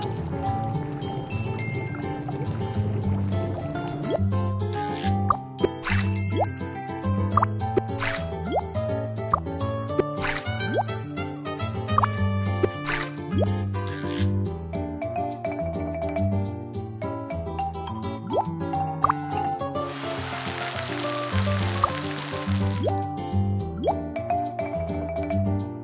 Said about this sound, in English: Let's make a pot of fish soup with the fish we caught.